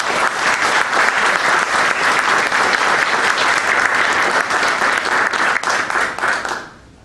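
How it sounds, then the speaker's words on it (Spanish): A large audience gives warm, loud applause at a posthumous tribute to Dr Pedro Saldaña Patiño, a dense roar of clapping that stays even for about six seconds, then fades away quickly. "a quien brindamos un fuerte y caluroso aplauso."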